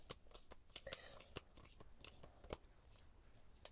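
Tarot cards from a frosted winter-themed Waite deck are handled close up with crisp flicks, slaps and riffles in an uneven rhythm, while someone speaks softly under the shuffling.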